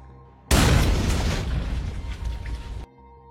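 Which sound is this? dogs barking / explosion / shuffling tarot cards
explosion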